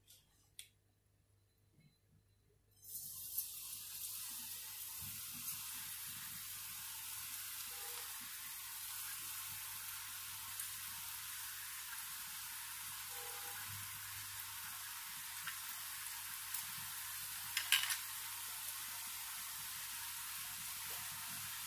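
Murukku dough of masala dal pressed into hot coconut oil sizzles steadily in a pan over a medium flame, a continuous bubbling hiss that starts suddenly after a quiet moment and carries on without talk.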